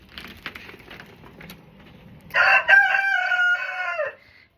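A rooster crows loudly and close by in a henhouse, one long harmonic call rising and holding before cutting off, with softer hen clucks and scratchy barnyard sounds leading up to it.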